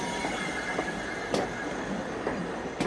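Railway noise with rolling wheels and a steady rumble, broken by faint rhythmic clicks and a couple of sharp squeals, continuous and fairly close, with no talking.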